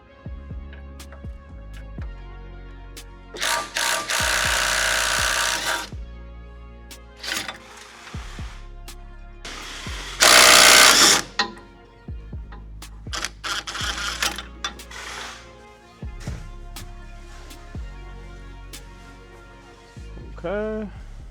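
Wrench working a 14 mm nut on a Nissan 370Z sway bar end link, heard as repeated short ratcheting clicks in bursts with pauses, fairly close, mixed with louder metallic scraping spells.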